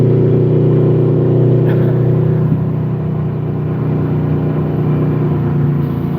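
Car engine idling and droning steadily while towing a trailer onto a narrow driveway, a loud, close, even hum with little variation.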